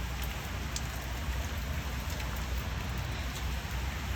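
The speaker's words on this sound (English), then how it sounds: "Too much rain, I tell you." Steady rain falling on an April day in New Jersey, a dense, even hiss of drops with scattered nearby patters, continuous and fairly loud throughout.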